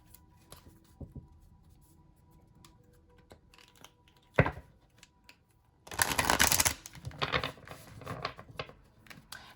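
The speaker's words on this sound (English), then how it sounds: "I'm going to grab my mermaid deck and start shuffling." Tarot cards riffled and shuffled up close, a short burst followed by a longer, louder shuffle with soft handling noises between.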